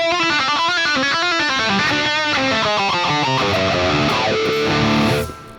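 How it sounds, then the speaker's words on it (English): Distorted electric guitar run through a wah-wah pedal, a loud sustained riff whose tone sweeps and shifts throughout, played close and alone before cutting off at the end. "Also how it works with the wah-wah."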